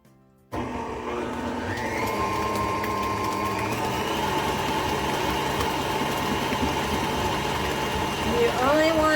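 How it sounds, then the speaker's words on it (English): An electric mixer beats two eggs into sugar-free salted caramel pumpkin cheesecake batter; after a short silence the motor starts and runs as a steady whirring hum, close and loud, its pitch shifting slightly near the end. "You only want to beat this, mix it until it is well combined."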